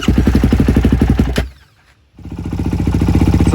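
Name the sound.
quad (ATV) engine running at idle after cleaning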